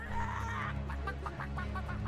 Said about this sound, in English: Where's my chicken emote?